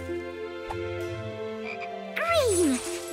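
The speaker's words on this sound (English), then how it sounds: "Oh, and this frog." A cartoon frog gives a single croak in a scene with background music, a loud swooping call near the end standing out over the steady musical tones.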